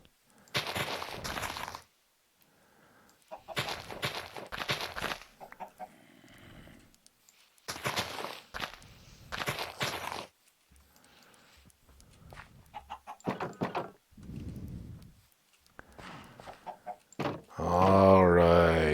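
Chickens clucking in the Minecraft video game, repeated short bursts of game clucks spaced across the stretch with brief gaps, plus a louder burst near the end.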